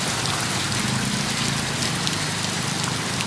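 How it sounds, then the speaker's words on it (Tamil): Heavy rain from Cyclone Fengal pours down steadily in Chennai in a dense, unbroken hiss, close and loud throughout with no voices. "ஸோ இன்றைக்கி மழை அதே அளவு மழை தான்."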